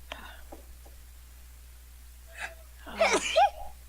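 A single sharp sneeze erupts close up near the end, during a tabletop role-playing game session, following a few faint breathy voice sounds.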